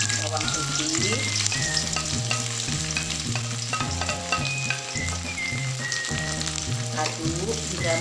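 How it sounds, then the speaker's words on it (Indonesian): Shallots and garlic fry in hot oil for a stir-fried mustard greens dish, making a loud continuous sizzle with the scrape of stirring throughout and no voices. "Setelah minyak panas, kita masukkan bawang merah, bawang putih,"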